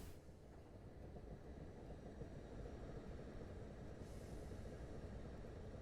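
Steady low rumble of a video game commuter train in a South London train simulator running along the track, constant and unbroken, with a faint hiss entering partway through.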